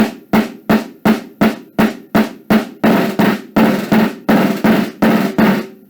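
Close snare drum buzz strokes played unevenly. Alternating buzzes, with the left hand choked off short at first, then longer, fuller buzzes that nearly run into each other.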